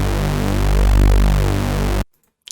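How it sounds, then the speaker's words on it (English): Mono Reese bass in Serum with the oscillator width turned down, a dense buzzing saw-wave note sustained for two seconds with a slow swell, then cut off into silence. "When we just turn down the width of the oscillator here, it will sound like this"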